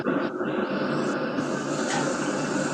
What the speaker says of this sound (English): Yep, that is from the propane burner.